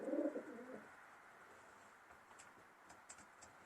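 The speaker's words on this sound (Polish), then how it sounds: "gołąbki, które już latają bardzo dobrze na młode" Racing pigeons coo in a loft: one close, fairly loud coo opens, then quieter soft chirps and faint calls follow over a low, calm background.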